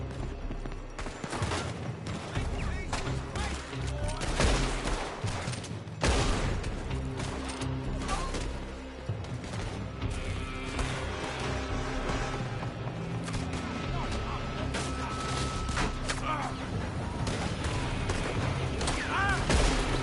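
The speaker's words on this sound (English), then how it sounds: "They're shooting from that building!" Gunfire from a building in Red Dead Redemption 2, with scattered loud shots and crashing impacts over a busy game soundscape, voices calling out at times.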